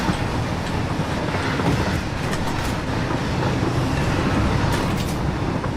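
A video-game train rushes past in a steady, loud roar with rhythmic clickety-clack of wheels over rails, dense and continuous throughout.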